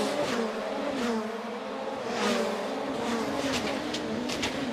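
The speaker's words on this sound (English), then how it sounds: "Train of cars coming through and over the jump." A train of rallycross race cars runs through a jump at a Riga track, engines roaring and revving in a loud, continuous surge as the cars pass one after another.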